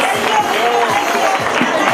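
Crowd applauding the podium finishers of a New Year's Eve San Silvestre race in Cadreita, a brief steady patter of clapping from a nearby gathering.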